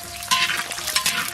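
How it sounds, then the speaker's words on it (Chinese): Scallion, ginger and garlic hit hot soybean oil in a pot and sizzle loudly, with a stirring scrape through a steady crackling hiss that swells briefly a few times. "油热，把葱姜蒜倒进去炒一炒"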